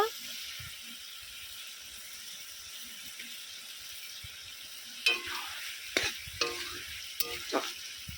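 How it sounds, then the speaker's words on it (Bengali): Banana flower curry with prawns cooks in a covered pan with a faint, steady sizzle, joined near the end by a few sharper clinks and scrapes from the pan. "আরও পাঁচ মিনিট আমি চাপা দিয়ে রান্না করে নেব"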